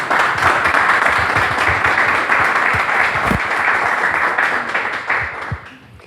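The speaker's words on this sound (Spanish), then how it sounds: "Un aplauso" An audience applauds after a historical talk at a gathering. The clapping is dense and sustained for several seconds, then fades toward the end.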